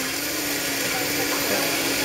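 A countertop blender runs steadily at high speed for juicing, a loud continuous whir with a constant motor pitch filling the whole clip, close by and alone.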